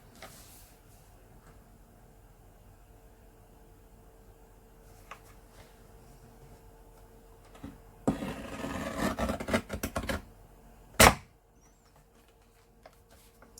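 A card trimmer slices a card blank to size, giving a burst of loud scraping and sliding for about two seconds, followed by one sharp snap as the blade finishes, with quiet room tone on either side.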